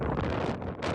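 Strong wind gusts on Girnar mountain, roaring loudly and continuously against the microphone with a brief dip before surging again.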